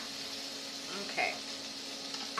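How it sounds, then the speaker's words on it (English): Cut carrot pieces for pad thai sizzle in a hot frying pan, a steady hissing fry with a brief clatter as they land and are stirred, close by and moderately quiet. "And then once they're cut, just go ahead and toss them in the pan."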